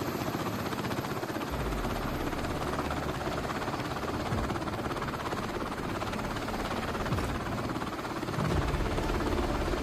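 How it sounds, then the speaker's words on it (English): Steady, loud helicopter rotor roar as the rotors spin up to full speed and it lifts off, a whooshing wash of noise that continues without a break for the full length. "The rotors begin turning, slowly at first, then spinning up to full speed."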